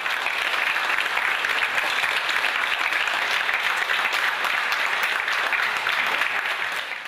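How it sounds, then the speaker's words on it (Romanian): Sustained, dense applause from PAS party members in a parliamentary chamber after the president's speech, steady and loud for several seconds before easing slightly at the end. "La sfârșitul discursului președintei, cei de la PAS au aplaudat furtunos"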